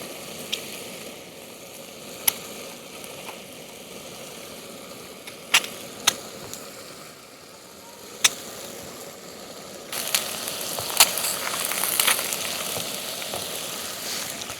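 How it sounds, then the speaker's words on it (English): Eggs frying in a pan on a camping burner, a soft steady sizzle under a low burner hiss, broken by a few sharp pops and clinks and rising a little louder near the end. "as you cook the eggs as well, I recommend kind of like going around the edges and keeping them up so they don't stick to the pan"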